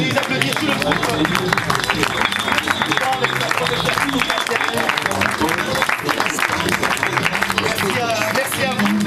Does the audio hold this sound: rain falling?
no